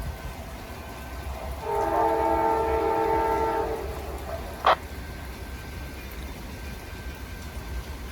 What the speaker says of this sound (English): I'm hearing CSX air horn and I'm hearing the Amtrak air horn both at the same time